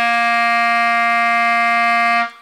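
A clarinet plays a single sustained C, fingered with the thumb and three fingers, as one steady, clear, reedy tone held for about two seconds before it stops.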